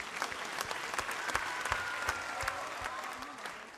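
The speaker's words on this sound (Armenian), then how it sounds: "Եկեք եւս մեկ անգամ ծափահարենք մեր" Audience applause at an Armenian gathering, a dense, steady patter of many hands clapping, fairly distant and even, with sharper individual claps standing out.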